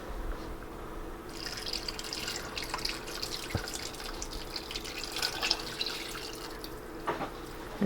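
Sweet and sour sauce trickling and dripping steadily over chicken in a bag, fairly quiet and close, with small splashy patters and no voices.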